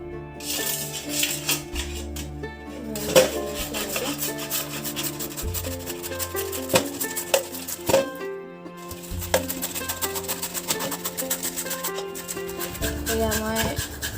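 Bamboo shoots are rubbed against a grater in a steady, rhythmic rasping, each close, gritty stroke repeating evenly over a faint tonal background.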